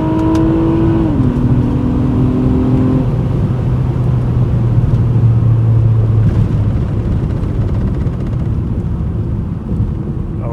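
A Honda Accord Coupe V6 with a Ktuner base map accelerates hard, its engine roaring loud and close as the pitch climbs, drops at a gear change, then climbs again, with heavy steady road and engine rumble throughout.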